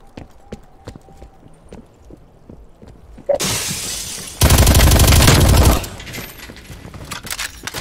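A burst of loud, dense gunfire in Call of Duty: Black Ops Cold War erupts mid-clip, a rapid sustained volley that cuts off abruptly, with sparse quiet clicks before and after.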